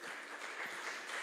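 A church congregation gives a strong round of applause to the Lord, a brief, dense, steady wash of clapping heard at moderate distance with no voices on top.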